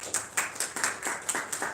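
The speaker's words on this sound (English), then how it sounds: "Give you a round of applause." Light audience clapping at an award ceremony for a film festival, a small group giving evenly spaced claps that sound thin and somewhat distant.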